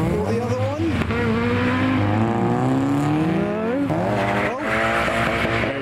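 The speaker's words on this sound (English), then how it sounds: "Noisy R33 Skyline and a pretty eager F-Type V6." At a car meet, a noisy Nissan R33 Skyline and an eager Jaguar F-Type V6 rev loudly nearby, engine pitch sweeping up and down repeatedly with possible tire squeal, close and continuous.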